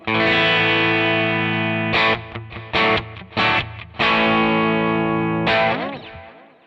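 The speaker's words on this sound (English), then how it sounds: "I'm using Paul's Matchless Independence capture on the TONEX pedal to give me my kind of the amp tone" Electric guitar with a driven amp tone from a Matchless Independence capture on a TONEX pedal rings out a sustained chord, then choppy short stabs and slides before a final chord fades.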